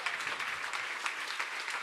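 An audience in a large radio studio applauds steadily, a dense, even wash of clapping with no voices over it.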